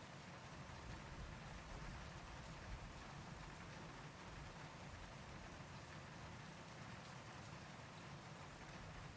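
Rain pours down at the Monza circuit in an F1 racing video game, a dense, even hiss of falling rain that holds steady throughout.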